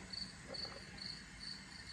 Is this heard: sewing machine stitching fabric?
no